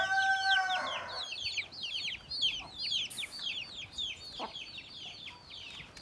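A chicken of an Indian breed gives a rapid series of sharp squawks and clucks as it is grabbed, close and agitated, following a brief crow-like call at the start.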